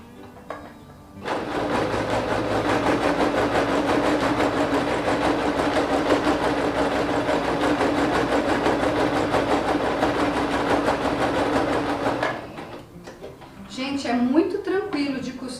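A sewing machine stitches the front section of a sewn photo album, running steadily for about eleven seconds before stopping, with a person talking briefly afterward.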